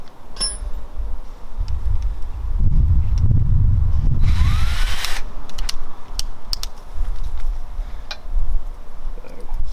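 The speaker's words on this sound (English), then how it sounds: "we're going to drill a hole straight through the centre of this and just put another M8 bolt straight through there" Power drill boring through a motorcycle rear fender on a Yamaha Virago, with a loud whirring burst of a couple of seconds among workshop clatter, clicks and handling noise nearby.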